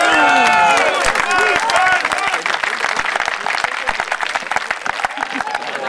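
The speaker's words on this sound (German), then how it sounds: "Und auch dafür wollen wir mit unserem Beifall ganz, ganz herzlich Danke sagen." Large stadium crowd applauding and cheering for a football player, number 6, at a legends match against 1. FC Magdeburg; dense, sustained clapping and voices fill the stands, loud and steady with a slight fade toward the end.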